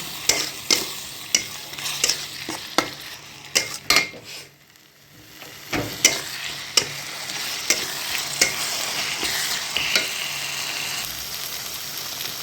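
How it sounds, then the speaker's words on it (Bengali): Green chili paste masala frying and being stirred in a pan for a pomfret fish dish, a steady close sizzle broken by regular scraping strokes of the spoon, with no talk. "মশলাটা এখনও কষানো হচ্ছে"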